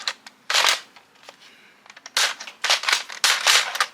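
A Nerf Elite 2.0 Eaglepoint blaster fired without its barrel, shooting Dart Zone darts, gives several loud, sharp bursts of air and mechanism. Softer clicks and handling noises come between the shots.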